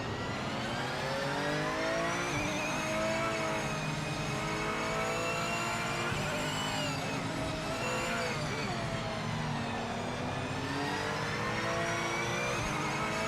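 In the Project Motor Racing game, a GT3 race car engine revs hard and drops through downshifts, its pitch repeatedly sweeping down and climbing again in a loud continuous whine, with some speech faintly underneath.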